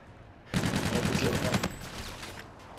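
A rapid burst of automatic gunfire in a competitive Call of Duty match rattles for about a second, then fades into quieter game ambience.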